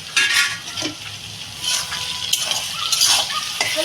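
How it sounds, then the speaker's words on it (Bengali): Tomato goes into a hot pan of frying onion for chicken kosha, bursts of sizzling with spatula stirring and light clinks of utensils against the pan, close and lively. "ধরো আমি এবারে যে টমাটারটা দিয়ে দেবো এর ভিতরে"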